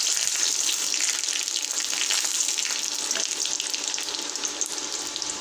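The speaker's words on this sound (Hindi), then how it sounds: "तो पहले अभी इसको हम अच्छी तरीके से लहसुन को थोड़ा सा हम जला लेंगे।" Garlic frying in a pan in a home kitchen, a steady, close hiss and sizzle of hot oil running throughout without pause.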